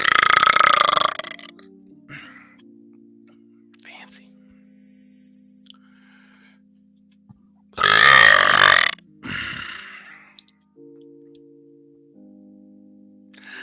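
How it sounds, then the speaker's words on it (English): A long, loud, resonant burp bursts out at close range, framed by stretches of quiet room noise with a faint steady hum and some soft breathy sounds. "I think it's just because I have a cavernous"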